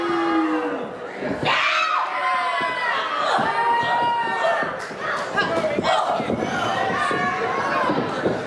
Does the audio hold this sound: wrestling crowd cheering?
yes